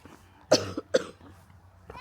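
A child coughs twice in quick sharp bursts, close by, followed by a faint throat sound against a quiet background.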